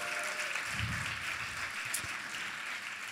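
A cabaret crowd claps for a performer, a soft, fairly distant patter of applause that holds steady throughout.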